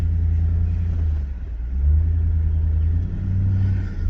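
A Nissan Patrol Y62 with an aftermarket throttle controller fitted gives a deep, muffled engine rumble that swells under light acceleration, heard from inside the cabin, steady and close with no voices.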